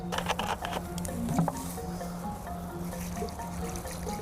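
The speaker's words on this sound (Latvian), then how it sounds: "liekam maisiņā iekšā ledu, ledus 5-6 gabaliņi, lejam klāt ūdeni" Water poured into a plastic bag holding five or six ice cubes, heard as soft patter and trickling with a faint steady hum underneath, quiet and close, no talking.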